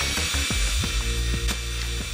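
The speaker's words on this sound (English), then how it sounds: "we are using a countersink bit to pre-drill the holes." A power drill with a countersink bit bores pilot holes into wet green wood for ladder rungs, giving close, loud whirring with short bursts and catches as the bit bites.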